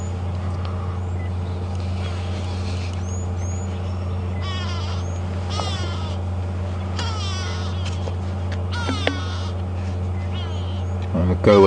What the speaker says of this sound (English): The go-away birds are now starting to alarm.